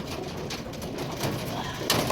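Many pigeons, kept and bred by a handler and given a lice-treatment bath, coo softly in low, murmuring calls close by, with a brief sharper noise near the end.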